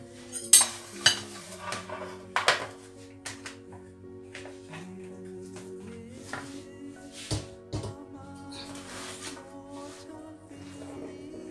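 Cheese bread batter is spooned into a greased 9-inch baking pan, with repeated metal spoon scrapes and clinks against the pan, close by, over a steady background hum.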